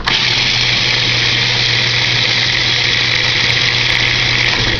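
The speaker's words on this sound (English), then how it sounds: "all the ingredients are in the food processor. I'm just going to put the top on and let it go." A food processor roars steadily at close range while blending raw veggie burger ingredients, a loud, continuous motor whir with no pauses or talking.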